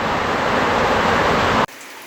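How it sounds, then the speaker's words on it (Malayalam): Heavy rain pouring down in the hills of Longwa village on the India–Myanmar border, a dense loud steady roar that stops suddenly just before the end, with nothing else audible. "മഴ കണ്ടുകൊണ്ട് കുറച്ച് നേരം അല്ലേ മഴ ആസ്വദിക്കാം"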